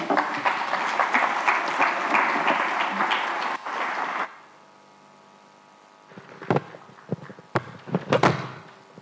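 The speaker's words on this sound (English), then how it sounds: "a big round of applause for the Under Secretary" A business expo audience applauds the Under Secretary with a dense round of clapping for about four seconds before it cuts off. A low hum follows, then a few scattered knocks and thuds.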